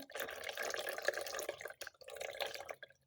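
Water draining and dripping from homemade cheese curds, a quiet continuous trickle with small splashes, briefly pausing near the end.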